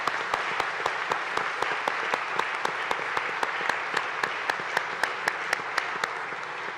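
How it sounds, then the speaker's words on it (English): A church congregation at a 75th anniversary closing Mass applauds the staff members, a sparse, fairly quiet round of separate claps ringing out at a steady pace over a soft room wash. "let's give them a round of applause."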